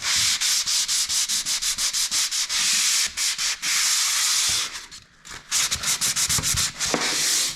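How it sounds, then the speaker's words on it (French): Sandpaper rasps rhythmically by hand across a plaster ceiling during renovation, in quick repeated scratchy strokes, close and steady, with a short pause before the strokes resume. "vraiment bien choisir le grain quand tu ponces à la main"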